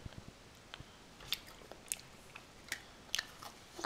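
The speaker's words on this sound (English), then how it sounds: "Let's take a bite into the cookie and let's see if it's crunchy or soft." Teeth biting into a crunchy iced cookie, followed by a few sharp, close crunches and chews spaced irregularly over a quiet background, with no talking.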